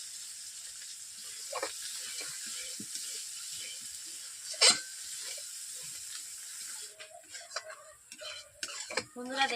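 A spoon scrapes and stirs spices frying in a pan for egg curry, giving steady close clinks and scraping over a constant hiss of sizzling oil, with no talk.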